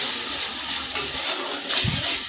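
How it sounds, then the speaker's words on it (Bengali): Garlic and cumin spice mix, loosened with a little water, frying in a pan: a soft, steady sizzle with a faint hiss throughout and a brief low stirring bump near the end. "ততক্ষণ পর্যন্ত এটিকে ভালো করে নেড়ে ছেড়ে ভালো করে ভেজে রেডি করে নিতে হবে মশলাটা"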